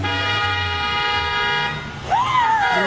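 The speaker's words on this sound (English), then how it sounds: "Is it honking at the motorcycle?" A car horn sounds with a loud sustained honk that bends in pitch on a busy road, preceded by traffic and engine noise, with a motorcycle nearby.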